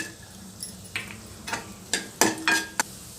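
Cashews and raisins fry in a pan for laddu, a soft background sizzle broken by several sharp, irregular clicks and scrapes of a spoon stirring against the pan.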